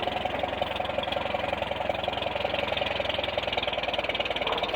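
A Blizzard silage chopper spins up on its belt drive, a steady, rhythmic mechanical drone with a fast knocking pulse that holds loud and even throughout.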